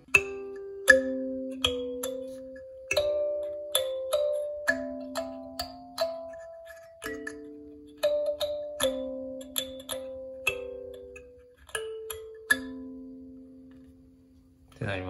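Kalimba playing a melody with accompaniment notes added on the first beat where the chords change, with bright plucked tines ringing and decaying one after another at a moderate pace, clear and solo with no talking.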